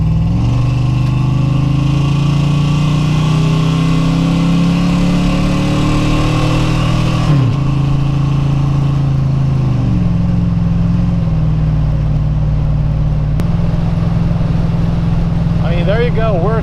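The General Lee car cruising on the freeway at about 2,400 RPM, its engine a loud, steady drone with small shifts in pitch as speed changes, heard from inside the car.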